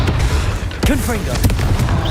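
Confringo fire spell blasts in Hogwarts Legacy land as booming, bursting hits mixed with combat noise, with a shouted voice over them.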